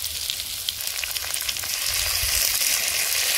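Ginger, garlic and green chilli paste frying with reddened potatoes in a pan for a prawn and banana blossom ghonto, giving a steady close sizzle that swells slightly louder toward the end, with no talking.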